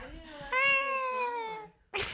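A person imitates an eagle's cry with one drawn-out, wavering screech from the throat that rises and then fades, followed by a brief breathy burst.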